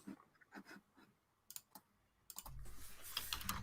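Fingers tap a computer keyboard in quick, quiet clusters of clicks, then pause before a short final burst under a rising background hiss.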